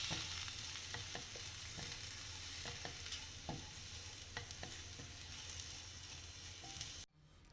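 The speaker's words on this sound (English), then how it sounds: "I have not dry roasted the rava earlier and hence I am going to roast it now" Semolina and vegetables dry-roast in a pan for an oats idli, giving a soft continuous sizzle broken by scraping stirs and light taps of the spoon, quiet and close, ending abruptly.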